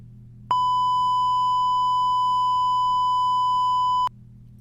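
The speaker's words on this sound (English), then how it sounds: "Beep, just a beep." Long, loud, steady censor beep sounding as a pure single tone for about three and a half seconds, starting and stopping sharply over a faint low hum.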